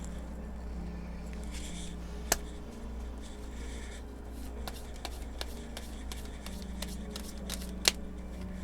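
Message cards are shuffled by hand, a soft, close riffling with a couple of sharper snaps over a quiet room.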